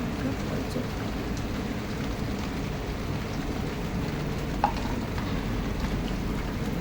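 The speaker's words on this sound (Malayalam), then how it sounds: "ഇടിയും ഭയങ്കര ഇടിയും മഴയൊക്കെയാണ്" Steady rain falls throughout, a dense even hiss with a broad low rumble underneath that may be distant thunder, no voices present.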